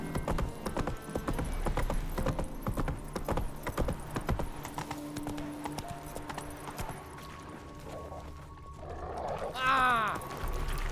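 Roach, Geralt's horse in The Witcher 3 next-gen update on PC, gallops with steady rhythmic hoofbeats up close, then slows as a whinny rises near the end, with speech partly over it.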